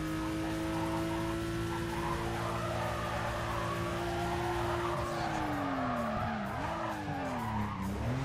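A Porsche 911 GT2 races in Need for Speed Carbon, its engine droning loudly and steadily with a sustained tire squeal and skid, the pitch sliding and wavering as it corners, with no speech.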